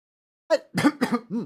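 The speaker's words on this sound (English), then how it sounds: "just coughing for no reason" A few short, throaty coughs in quick succession, close by, after a moment of silence.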